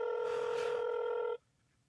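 A telephone tone during an emergency call to 999, one steady electronic ring lasting just over a second, fairly loud and alone, then cutting off sharply into near silence.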